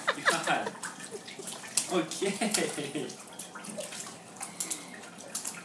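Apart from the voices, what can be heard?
baby splashing water in the bath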